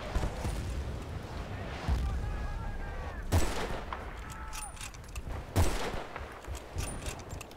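Gunfire in the video game Battlefield Bad Company 2, with scattered shots and two sharp loud bursts over a busy battlefield background of distant firing.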